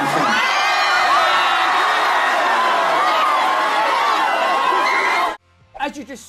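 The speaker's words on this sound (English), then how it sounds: "the crowd went wild in support of the rapper" A concert crowd at a show cheers and screams loudly in a dense roar of whoops and shouts for about five seconds, then cuts off abruptly, with a few voices heard afterward.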